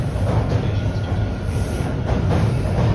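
A TTC subway train pulls out of Kennedy Station, a steady low rumble of wheels and motors with faint rattling, close by and slowly building as it departs.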